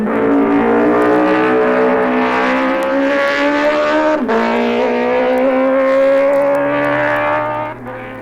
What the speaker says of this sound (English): he won the junior and the senior on his MV4s. Listen to his senior bike at Craignabar.